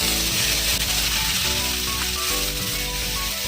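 Chillies sizzle loudly in hot oil for a prawn malai curry, a close, continuous frying hiss over a steady low hum, with small crackles through the few seconds.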